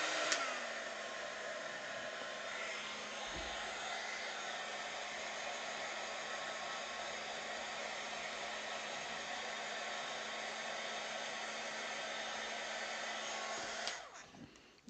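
A hair dryer blasts continuously at close range, a steady loud rushing whoosh with a faint motor whine, running for most of the clip before cutting off near the end.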